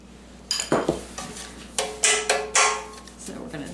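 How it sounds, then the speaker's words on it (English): Metal 9x5 loaf pans being dusted with cinnamon sugar, giving a few sharp clanks and scraping taps as the pans are tilted and tapped, loud and close, alone with no talk. "In each pan, let's dust it with a tablespoon of the cinnamon sugar mixture."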